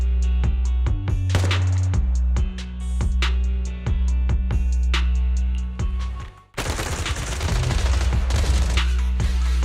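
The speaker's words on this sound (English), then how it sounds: "Suppressive marching fire." Suppressive marching fire in the game Zenless Zone Zero: rapid bursts of repeated gunshots in sharp rhythmic volleys, loud and close, with a brief lull before a denser, heavier barrage.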